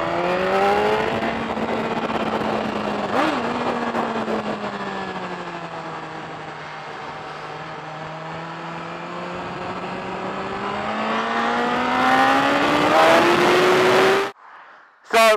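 A 2012 BMW S1000RR and a Yamaha R1 ride toward the Autobahn, their engines droning loud and close in a steady, wavering pitch for about fourteen seconds before cutting off abruptly near the end.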